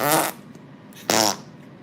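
Flarp noise putty toy squelched to make two separate fart sounds, each a short, close, fairly loud spluttering burst, with a quiet pause between them.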